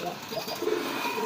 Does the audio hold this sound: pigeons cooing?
yes